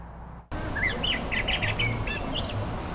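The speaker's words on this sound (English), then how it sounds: "the birds chirp" Birds chirping outdoors in a quiet West El Paso neighborhood, a series of clear near tweets and trills rising over soft ambient background after a brief cut in.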